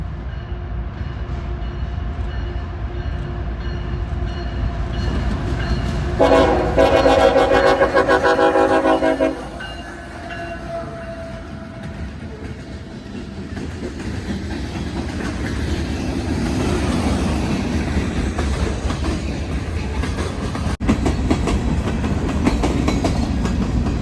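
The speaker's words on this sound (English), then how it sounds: "we catch CSX train M422-02 with the friendly crew heading northbound" CSX freight train M422-02 rolling northbound past Collier Yard, a steady loud rumble with rhythmic clickety-clack of railcars and a brief burst of squealing or horn-like tone partway through, continuing alone without voices.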